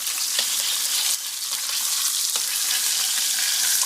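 Pork chops sizzle and fry in a pan on an electric range, a loud, steady crackling hiss up close with occasional pops and no talk.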